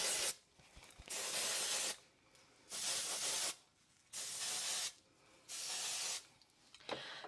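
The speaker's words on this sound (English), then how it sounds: "I'm going to put some dry shampoo in my hair" Dry shampoo sprays into hair from an aerosol can in four separate bursts of bright hissing, each lasting under a second, with quiet rustling gaps between them, close and soft.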